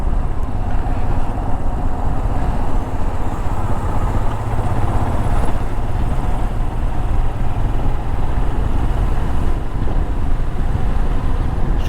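Royal Enfield Himalayan first-generation BS6 motorcycle engine running steadily while riding in traffic, a continuous loud rumble mixed with wind buffeting on the microphone, with no talk over it.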